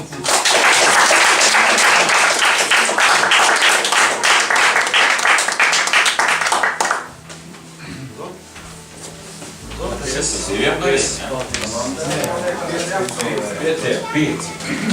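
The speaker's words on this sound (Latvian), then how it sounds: "Aplausi!" Audience at a class reunion applauding loudly for about seven seconds after souvenirs are handed out, then the clapping stops abruptly and talk with murmuring and scattered noise follows.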